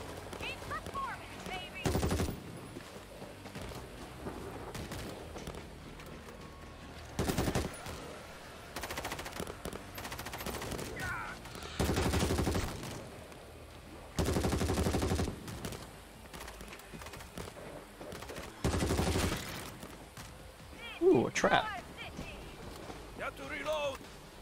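Bursts of automatic gunfire from a powerful tier 3 weapon in the zombie shooter World War Z, several separate rattling volleys spaced through the stretch, loud against quieter game ambience, with a player talking in between.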